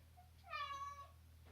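A single drawn-out meow from a house cat wanting to be let out the door, close and clear, rising then fading over about half a second against a low steady hum.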